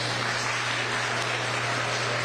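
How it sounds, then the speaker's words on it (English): An audience at the Berkeley County Youth Fair applauds a young exhibitor after a dog showmanship class. The clapping is a steady, dense wash with a low hum underneath. "Let's give him a big round of applause."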